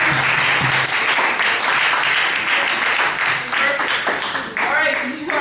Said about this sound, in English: Guys, give yourselves a big round of applause